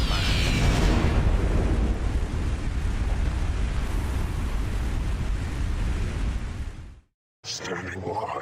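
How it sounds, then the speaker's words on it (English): Roaring, rumbling blasts of fireworks-style explosions in a HYDRA-modded video game, a dense continuous wall of booms lasting several seconds, loud and close, cutting off abruptly into a brief silence before more noise resumes. "Fireworks, guys."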